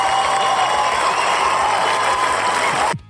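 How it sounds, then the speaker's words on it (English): A short canned crowd cheer and applause effect played back, a dense even roar of clapping and cheering that cuts off abruptly near the end. "we got a cheer for you"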